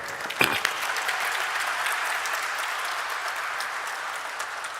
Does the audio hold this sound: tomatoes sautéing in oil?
no